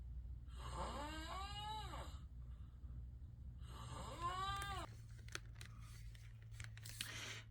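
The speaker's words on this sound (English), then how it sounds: "So yeah, clearly I snore. It even sounds like I whistle a bit." A person snoring with a slight whistle: two long, faint breaths a few seconds apart, each with rising and falling whistling tones, followed by quiet rustling and soft clicks.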